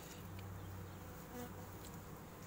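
Honeybees buzz inside an autumn hive after feeding on heather, clustered tightly on the frames for warmth, a steady low hum with a few brief higher whines from individual bees close by.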